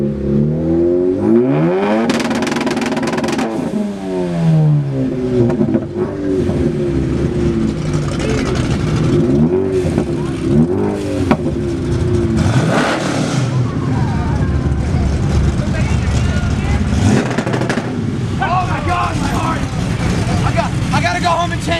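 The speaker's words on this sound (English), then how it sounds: "We seem to have a rev off." Cars revving their engines against each other in a rev-off at a JDM and muscle car meet, including a ZL1, with repeated loud rising and falling revs and roaring exhaust while people talk over them.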